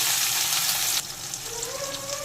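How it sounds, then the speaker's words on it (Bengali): Chopped onion hits hot oil with bay leaf, dried chilli and cumin, a loud burst of sizzling that drops to a softer, steady frying hiss. "দিয়ে দেব পেঁয়াজ কুচি"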